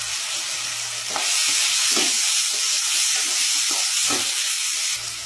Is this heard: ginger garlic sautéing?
yes